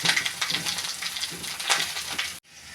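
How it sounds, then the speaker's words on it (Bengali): Cauliflower pieces frying in hot oil, a steady crackling sizzle that runs close and fairly loud, then cuts off abruptly near the end. "এদিকে ফুলকপি তেলে ভেজে নিচ্ছি"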